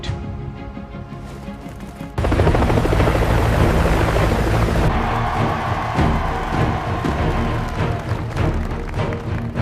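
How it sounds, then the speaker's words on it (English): A helicopter's rotor thumps loudly and steadily, jumping in volume after about two seconds as it draws close overhead, its engine whine roaring underneath. "The helicopter will come."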